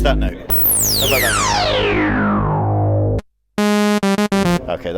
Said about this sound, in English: Okay, that's just a saw wave.